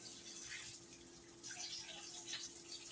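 An egg mixture is poured slowly over toast in a breakfast casserole dish, giving a soft, faint, wet trickling and pattering under a low steady hum, with no talk.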